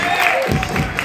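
Crowd applause at a Break The Floor breakdance battle in Manaus, a short burst of clapping and cheering with a voice over it.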